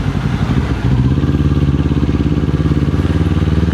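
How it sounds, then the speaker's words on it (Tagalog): A Kawasaki Z400 motorcycle fitted with a Yoshimura R77 exhaust idles close by, its loud, even, throbbing pulse holding steady after a brief uneven start, with no talk over it. "Medyo na-miss ko rin yung tunog nitong Z400."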